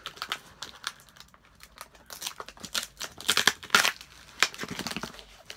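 Close crinkling and crunching of a package being cut open with scissors, sharp snips and tearing in irregular bursts, near and fairly quiet.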